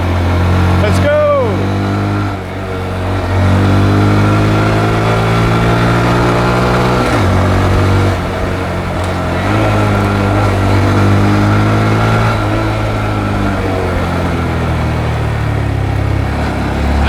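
A Honda Grom motorcycle engine revs and pulls through the gears while being ridden hard in Thailand, its steady buzzing drone rising and falling close up over the whole stretch.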